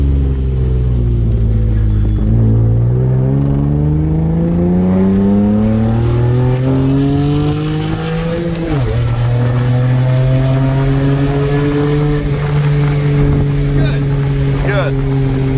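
An S52-swapped BMW E30 accelerating through the gears, its engine note rising steadily, dropping at each shift and climbing again, loud and close from inside the car with faint talk underneath.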